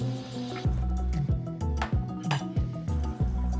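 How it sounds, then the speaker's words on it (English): A lid is set on a pot of brown stew pork, giving a string of sharp metallic clinks and clanks at a steady, uneven pace, close and fairly loud. "I'm gonna place the lid on and I'm gonna let the pork cook for 45 minutes"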